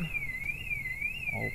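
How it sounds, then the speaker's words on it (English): A van's alarm blares in an alien abduction video game, a loud wavering siren tone sweeping up and down steadily for the whole span, alone without voices. "That's my van alarm, right?"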